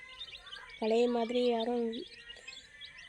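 A bird outdoors gives a short, clear melodic call of a few linked notes lasting about a second, with faint chirps in the background and someone speaking briefly in Tamil.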